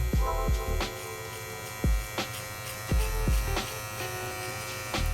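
An electric beard trimmer buzzes with a steady mains-like hum while blending a beard, close and continuous, broken by several short sharp taps and clicks as it touches the face.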